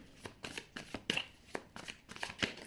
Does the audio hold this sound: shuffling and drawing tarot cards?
yes